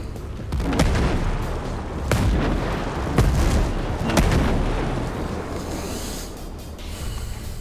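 Sniper rifle shots from the game Ghost Recon Breakpoint, several loud sharp cracks at roughly one-second intervals over a steady rumbling game ambience, with no talk.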